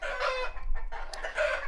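Chickens on a farm cluck busily and a rooster crows in a brief, fairly loud burst of overlapping calls, with no talking.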